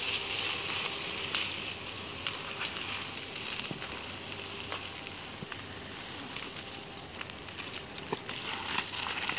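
A forest fire's leftover flames burn and crackle with faint, scattered pops over a steady low rush, quiet and continuous throughout.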